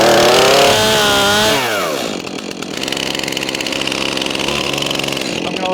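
A chainsaw engine catches with a loud rising rev, then settles into a steady, rapid idle as it warms up, close by.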